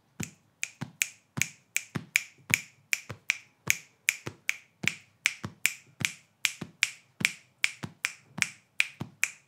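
A kashaka, a pair of small shaker rattles on a string, plays a 2-against-3 polyrhythm as crisp, dry clicking rattle hits in an interlocking pattern that repeats steadily and close up, with no talking.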